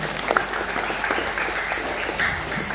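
An audience applauds the regent at a gathering of the Balinese community in Belitung, with steady, dense clapping from many hands that holds evenly for a few seconds.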